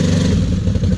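A quad ATV engine, apparently a Can-Am Renegade 800R XXC in a forest, revs hard at full throttle, a loud, dense, steady roar with rattling clatter and no pause.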